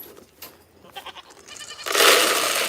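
A goat bleats out of its pen, a few short calls followed by a louder, sustained bleat close to the microphone.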